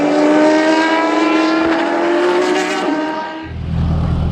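Historic race cars sweep past on the Hockenheim circuit during a slow-down lap, with a loud, sustained harmonic engine whine that sags in pitch as they pass, then a deeper rumble comes up close at the end.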